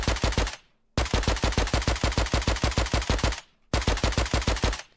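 A fully kitted assault rifle from the Minecraft Just Enough Guns mod fires two long, rapid, evenly spaced automatic volleys. The loud, punchy bursts are separated by a brief silence, with no speech.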